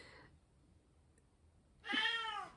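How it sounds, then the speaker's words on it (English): A cat gives a single clear, fairly close meow after a quiet pause, rising then falling in pitch. "he usually only meows when it's something important"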